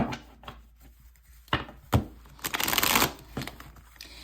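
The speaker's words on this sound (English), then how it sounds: "let's start with shuffling this deck here" A deck of tarot cards being shuffled by hand, close and fairly quiet, with soft riffling bursts, light rubs and a few sharper card taps over about four seconds.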